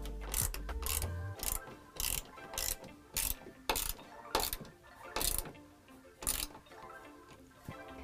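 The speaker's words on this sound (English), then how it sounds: "take our T30 Torx driver and go ahead and tighten down the latch strike." A ratcheting T30 Torx driver tightens the latch strike of an Extang Trifecta ALX tonneau cover on a 2022 Ford Maverick. Its clicks come in short, close bursts, with brief pauses between strokes.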